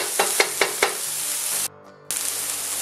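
Frozen home-grown bell pepper sizzles in a pan, with a bright steady hiss and four quick stir scrapes. The sizzle drops off briefly, then returns.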